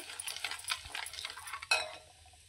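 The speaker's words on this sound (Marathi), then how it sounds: "व्यवस्थित हलवून घ्यायचं" A spoonful of red chili masala is stirred into hot oil for Maharashtrian egg curry. A close sizzle comes with quick scraping strokes and one sharp clink of the utensil before the sound dies down, with no talk.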